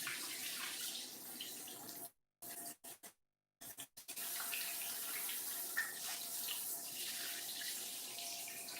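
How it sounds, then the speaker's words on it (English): Hands are rinsed under a running kitchen tap during home country cooking: a steady hiss of water with a few abrupt cutoffs as the flow is interrupted, then continuous splashing resumes, fairly close. "Now I'm gonna rinse my hands off."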